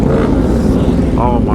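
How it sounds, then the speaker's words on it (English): A motorcycle engine revving loudly and steadily at a large street motorcycle meet in Houston, close and continuous, with a voice speaking over it. "let me stop revving my bike"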